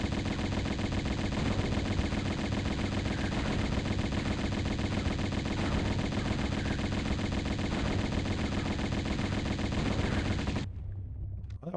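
Continuous rapid gunfire from shooting enemies in Tomb Raider (1996), a dense mechanical stream of repeated shots held steady for about ten seconds before cutting off abruptly, with no talk.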